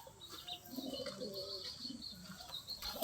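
Pigeons roaming loose outside their cage at night give faint, soft coos and small chirps, with a hint of fluttering, all quiet and close against a hushed background.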